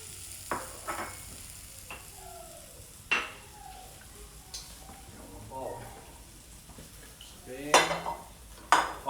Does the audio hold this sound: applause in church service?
no